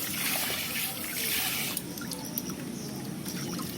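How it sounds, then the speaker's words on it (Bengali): Tap water runs steadily into a sink while lote (Bombay duck) fish is rinsed, a continuous close trickle and splash with a few brief drips and clinks partway through. "কত সুন্দর জল পড়ছে দেখো, খুব ভালো হয়েছে কিন্তু কলটা লাগিয়ে।"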